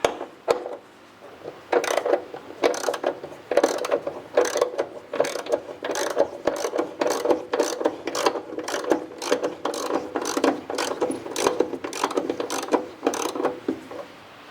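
A hand ratchet works loose the front bolts on a 1967 Firebird, giving a long run of sharp, evenly spaced clicking strokes, close and fairly loud, with a short pause near the start.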